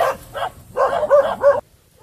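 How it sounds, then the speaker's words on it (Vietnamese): A dog barks close by during cast-net fishing in Vietnam, giving a quick run of about five loud, sharp barks in two seconds before stopping abruptly into quiet. "đó chó sủa không xong"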